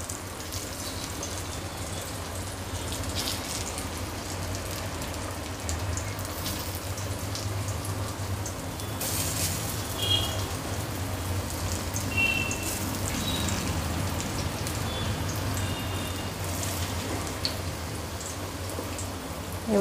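Aloo vadi rolls slid into hot oil over a low gas flame give a steady, even frying hiss and crackle that goes on throughout, with faint scattered pops and no talking.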